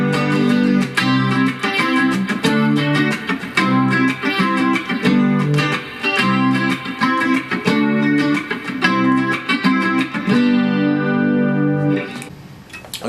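An electric guitar with effects strums a major-key chord progression in a steady rhythm, with bright, layered chords sounding for about twelve seconds before fading to a brief pause.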